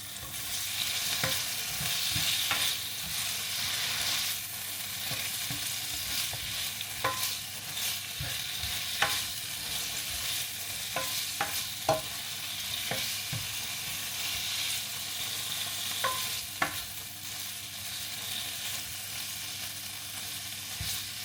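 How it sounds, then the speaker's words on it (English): Tofu sizzles steadily in a hot pan for a stir fry, a constant crackling hiss with occasional clicks and scrapes of stirring. "I'm frying up tofu"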